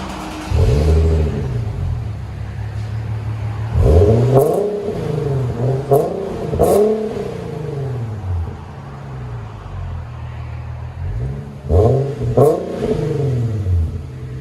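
Loud, throaty exhaust revs from an Infiniti Q50 3.7L V6 with the muffler removed, in several bursts, rising and falling sharply between rumbling idle, close up and without talk.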